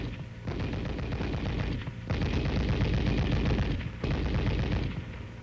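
An M73 coaxial tank machine gun, firing from the open bolt, rattles off three long, loud, sustained bursts separated by brief pauses.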